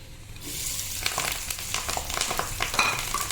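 Onion and curry leaves dropped into hot oil for bread upma crackle into a lively, moderately loud sizzle, with scattered spoon-stirring clicks and pops throughout.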